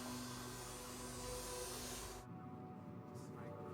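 A vacuum cleaner runs inside a car interior as police collect hair and fibers, a loud steady whooshing roar that cuts off abruptly partway through, leaving a faint low hum.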